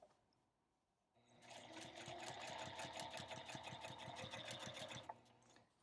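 A sewing machine stitches quilt binding along a quilt edge in one steady run of about four seconds, close and loud, with rapid even needle strokes after a quiet start.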